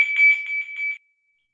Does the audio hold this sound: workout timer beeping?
yes